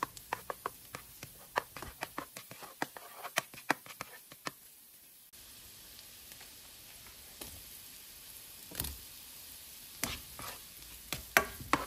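Ribs fry in a pan with onion, garlic, butter and tomatoes, crackling softly under a steady sizzle while a utensil knocks and scrapes in quick repeated strokes, then the sizzle broadens with occasional clicks.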